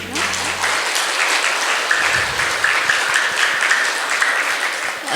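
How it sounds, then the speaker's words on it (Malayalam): Sustained applause from an audience at an International Yoga Day gathering in Kannur, honouring a yoga teacher; dense, even clapping fills the full length at steady volume, with faint voices mixed in beneath. "അവർക്ക് നല്ലൊരു കയ്യടി കൊടുക്കാം"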